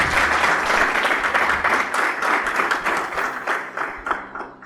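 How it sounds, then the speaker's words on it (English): At the launch of a Bolton Wanderers football partnership in India, an audience claps in a loud, dense, continuous burst of applause lasting a few seconds, with no talk over it. "Please, can we give them a big round of applause?"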